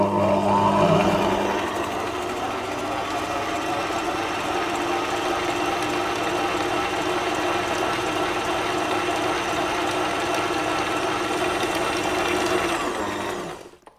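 A Sage Scraper Mixer Pro stand mixer runs on its creaming setting, giving a close, steady mechanical whir with a rattling gear hum. It holds constant for about thirteen seconds before stopping abruptly.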